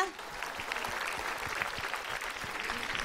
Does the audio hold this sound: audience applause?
yes